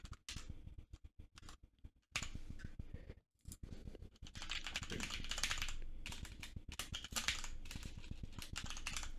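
Quick bursts of keystrokes clatter on a computer keyboard close by, with brief pauses between the flurries and a longer, denser run of typing toward the end.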